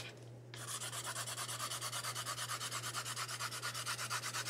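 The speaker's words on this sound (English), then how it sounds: "I'm just scrubbing the things." Steady rhythmic back-and-forth scrubbing as colors are worked onto card during cardmaking with school supplies, a close dry rubbing that starts after a brief pause and repeats evenly, with a low steady hum underneath.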